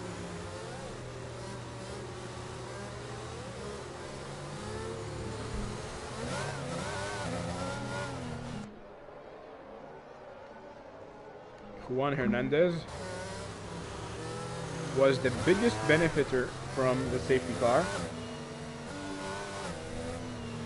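Race car engines in the F1 2022 video game whine and rev steadily under continuous commentary, cut out briefly, then return with a rising, accelerating drone.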